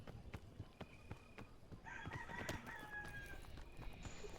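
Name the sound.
rooster crowing in the video game PEAK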